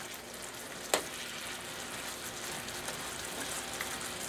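Cinnamon apple pancakes cook in a pan with a steady, soft frying sizzle throughout, and one sharp click near the start; no one speaks.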